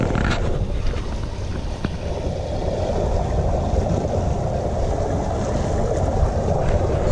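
Sailboat cruising at about 3.5 to 4 knots under a cruising spinnaker in roughly 8 knots of wind, steady wind rush and water wash against the hull, continuous and moderately loud.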